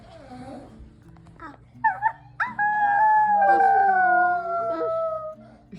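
A dog lets out a long, wavering howl after a few short yips, close and loud, with a person talking softly before it.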